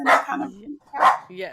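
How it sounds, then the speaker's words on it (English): A pet dog gives a couple of short, sharp barks indoors, close by and loud, each one cutting across a person speaking. "Sorry about my dog"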